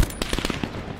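Rapid burst of close automatic gunfire in the Black Ops 4 Blackout ground war mode, several sharp shots fired in quick succession over about a second, with no talking.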